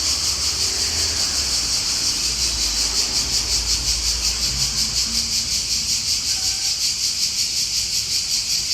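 An unidentified bird in Italy keeps up a shrill, buzzing trill much like a chirping cricket, pulsing in a steady rapid rhythm for several seconds over a soft outdoor hiss, with no voices.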